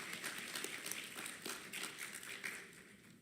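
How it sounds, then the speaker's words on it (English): Audience applause at a healthcare conference, a dense crowd clapping steadily at moderate distance, fading slightly toward the end. "give them a big round of applause"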